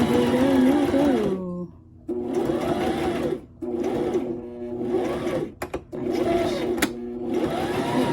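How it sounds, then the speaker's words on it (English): A sewing machine runs zigzag stitching in three bursts of steady whirring, each a couple of seconds long, with short pauses and faint clicks between them. The machine sounds close and fairly loud. "I love the zigzag stitching."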